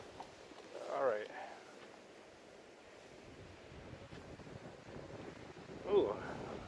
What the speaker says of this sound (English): Ooh, feeling the cold wind here.